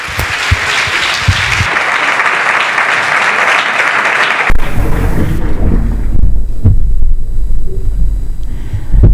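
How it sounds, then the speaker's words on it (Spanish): Loud applause from an audience at a municipal talk, a thick burst of clapping that cuts off sharply partway through and leaves a quieter, rumbling room with scattered noises. "Démosle un fuerte aplauso a nuestro amigo Fermín Mayorga."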